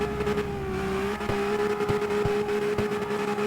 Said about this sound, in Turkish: Evet arkadaşlar şimdi bir de drift yapmayı deneyeceğiz